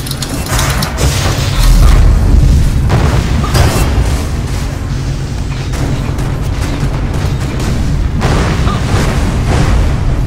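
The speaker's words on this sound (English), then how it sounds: "We're turning the cannon around on the corner tower to fire on you." Castle tower cannons in ArcheAge firing during a siege defense, giving heavy booming blasts with deep low rumble over continuous battle noise, loud and close.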